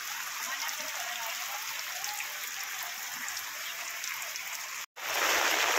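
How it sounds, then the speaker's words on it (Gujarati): Heavy rain falls steadily outdoors in a dense, even hiss that stays constant throughout, broken once by a brief dropout before it returns louder. "હાલ વરસાદ ફૂલ પડી રહ્યો તો પાછલા કેમેરાથી બતાવું વરસાદ"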